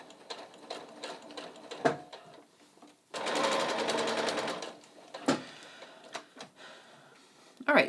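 A sewing machine stitches a hem on stretchy yoga pants with a twin needle, running in short bursts and then one longer steady run, close by, with a person talking between the bursts.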